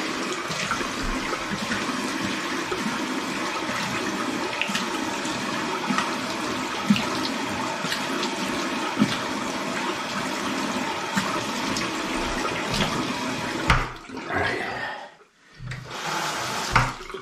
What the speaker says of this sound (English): I'm gonna rinse my face off and then do the second pass.